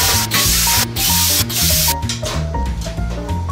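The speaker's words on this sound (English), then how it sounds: "Why use a drill when you've got a plasma cutter?" A plasma cutter hisses and roars steadily as it cuts through metal at a workbench, loud and close, with a rough buzzing tone and brief breaks in the arc.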